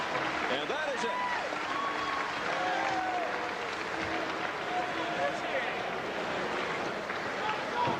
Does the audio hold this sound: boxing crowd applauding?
yes